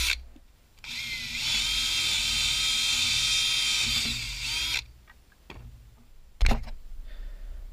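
A power drill bores through clamped wooden boards: one sustained whirring run of several seconds, then brief clicks and a short burst after it stops, recorded close.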